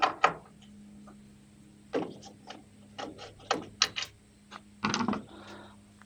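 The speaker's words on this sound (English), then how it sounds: "unscrew these two screws just inside your tailgate" A Torx T15 bit backing out two screws inside the tailgate of a 2018-2024 GM truck (GMC Sierra, Chevrolet), heard as close sparse mechanical clicks and ratcheting bursts separated by quiet pauses.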